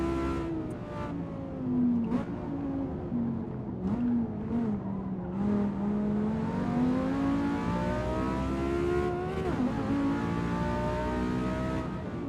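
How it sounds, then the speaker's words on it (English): Corvette race car in a racing video game, engine revving and shifting through gears with rising and falling pitch as it closes in to overtake, continuous and fairly loud with brief tyre squeals. "That Corvette is gonna overtake me."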